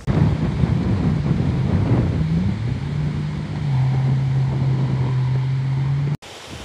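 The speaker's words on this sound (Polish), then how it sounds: "Siedzę dosyć chwilkę i zerwał się wiatr." Strong wind buffets the microphone with a low, rumbling roar over the rushing water of the Oder River, ending in a sudden cutoff.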